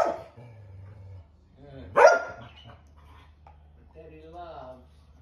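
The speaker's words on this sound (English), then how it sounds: "The dog wants a bone." A dog gives a short bark and some whimpering in a quiet room while people talk nearby.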